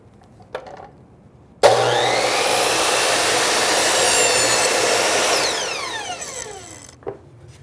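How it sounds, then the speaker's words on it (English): A miter saw slices through crown molding trim in one loud, sustained cut lasting several seconds, with the motor whine winding down afterward and a few light clicks and handling knocks before and after. "let's cut the trim."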